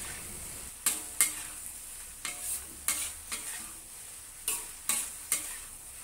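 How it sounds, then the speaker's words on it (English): Deep-fried shrimp tossed in a wok with kung pao sauce, a steady sizzle broken by about nine sharp scraping strokes of the spatula at an uneven pace, close and clear. "Return the deep fried shrimp to the wok."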